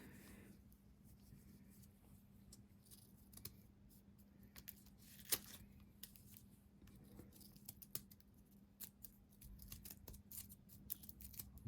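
Scissors snip through paper while a paper snowflake is cut, a run of soft, quiet clicks and crisp cuts at an irregular pace over a faint steady hum.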